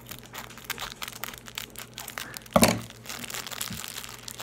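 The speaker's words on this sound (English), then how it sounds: "I'm gonna use scissors again, kids, to open up the bag." A plastic toy bag is cut open with scissors, giving soft crinkling throughout and one sharp, loud crunch of plastic midway, close to the mic.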